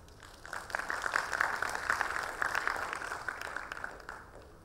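Steady audience applause fills a conference hall at a speakers' federation welcome address, a dense patter of many hands at moderate distance.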